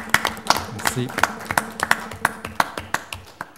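Scattered hand clapping from a small group at a Saint-Raymond town council meeting: sharp, uneven claps at a moderate level, with a voice briefly speaking over them.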